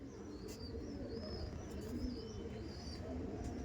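Andhra pigeons cooing steadily in a loft, a dense low murmur of overlapping coos running throughout with faint chirps above.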